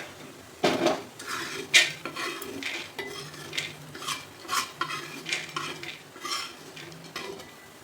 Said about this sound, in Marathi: तर आता हे डाळवं छान भाजलेले काढून घ्यायचं।